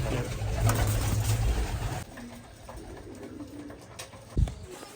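Soft pigeon cooing close by, low murmuring calls over a brief rustle, then a quieter stretch with a sharp bump near the end.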